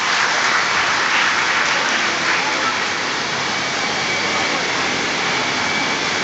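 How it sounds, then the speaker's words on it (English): Loud, steady applause from a large graduation ceremony audience at a medical sciences institute, a dense wash of clapping that fills the whole stretch without pause. "I think yours is the biggest applause."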